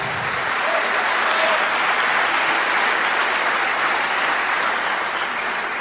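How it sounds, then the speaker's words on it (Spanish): Evangelical church congregation giving loud, steady applause during a sermon, many hands clapping together in a dense, unbroken roar from start to finish. "Den el aplauso al Señor Jesucristo."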